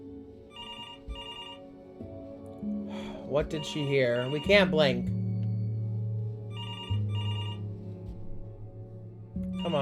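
A telephone rings in the video game Before Your Eyes, repeated electronic trilling bursts at the start and again near the end, with music and a person talking over the middle.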